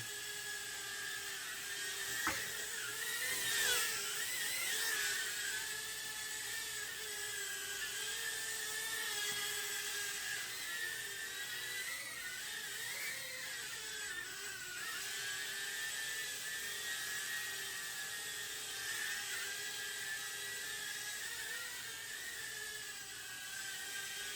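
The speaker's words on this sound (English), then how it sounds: "I'm pretty impressed with the E011 7mm motors, plenty of power." Tiny 7mm brushed motors of an Eachine E011 micro drone whirring in flight, a steady high-pitched whine that rises and falls slightly with throttle, close and continuous throughout with no talking.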